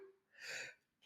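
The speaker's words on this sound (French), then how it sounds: "alors je m'excuse, j'ai envie d'éternuer" A woman gives a single sneeze indoors, a short breathy intake followed by a sharp, close burst, then a faint trailing breath.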